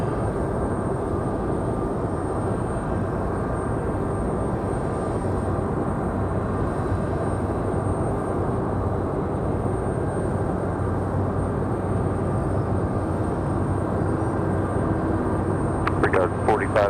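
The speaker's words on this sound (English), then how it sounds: "Nice smooth touchdown for American." An American Airlines jet touching down at Raleigh-Durham airport: a steady, loud engine and airflow roar holding for the whole stretch, with talk over it throughout.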